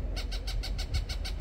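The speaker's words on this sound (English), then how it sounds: "Do you hear that bird?" A bird calls in a fast, even series of about eight repeated notes, nearby outdoors over a low rumble of background noise.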